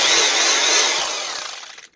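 A power drill run in hammer-only mode for breaking concrete, with the bit not rotating: a loud, dense, continuous rattling buzz close by that winds down and stops at the end.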